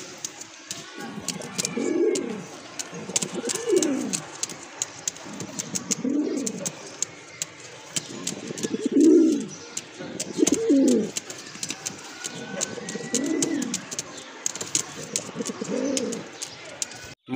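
Pigeons in a loft coo in deep, rolling bursts about every two seconds, close and clear over a faint background murmur.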